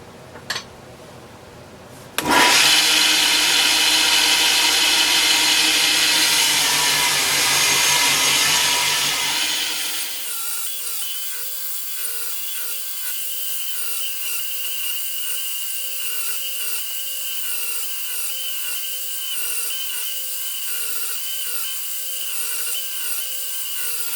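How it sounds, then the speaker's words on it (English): A power sander works wooden pieces, starting after a brief thump with a loud, harsh high-pitched whir that later settles into a steady, thinner buzzing drone that continues alone to the end. "we've sanded the pieces down now"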